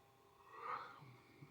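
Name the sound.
yawning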